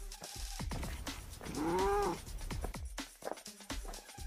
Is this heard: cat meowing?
yes